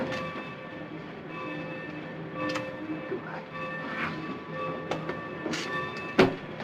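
A steam-era passenger train from a 1947 film begins to move off, a low rumbling rail bed with faint clanks and a brief sharp metallic burst near the end, fairly quiet and without talk.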